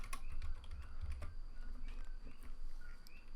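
Computer keyboard keys are tapped in a short run of faint, close clicks at a desk during photo editing, with a backspace press among the keystrokes and a soft background hum.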